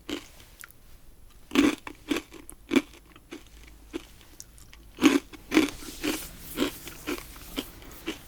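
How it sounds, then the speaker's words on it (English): Crunchy snack from a MunchPak snack box bitten and chewed close to the mic, a series of sharp crisp crunches in irregular bursts with quiet gaps between, no talking. "It's a really good crunch factor."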